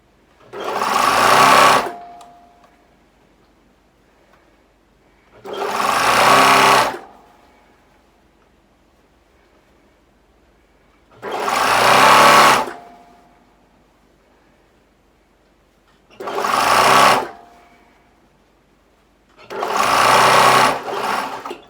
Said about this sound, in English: So I'm just going to sew all around this sleeve